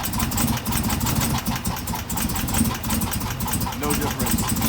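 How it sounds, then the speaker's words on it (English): A 2016 Camaro engine with a cracked valve spring runs roughly, several cylinders misfiring, giving a loud, steady, uneven idle that fills the whole stretch up close. "There's actually multiple cylinders that are misfiring."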